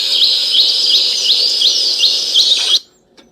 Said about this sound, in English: So listen to those birds.